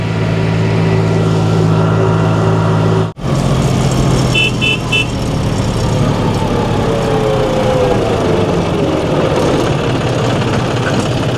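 A tractor engine runs through a long ride, a loud, steady, close drone with a brief dropout near the start and no voices.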